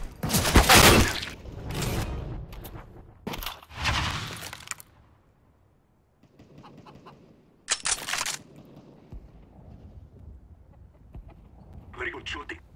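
Gunfire from the video game CS:GO arrives in several loud, sharp bursts separated by quieter stretches, mixed with clattering impacts, and a voice talks during part of the clip.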